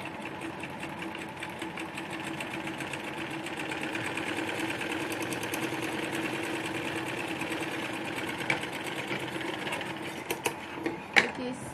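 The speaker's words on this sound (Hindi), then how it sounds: "यहाँ से सिलाई लगा लेंगे" Steady close whir of a sewing machine stitching a sleeve for a fancy frilled sleeve design, running continuously with a few light clicks near the end and speech heard over it.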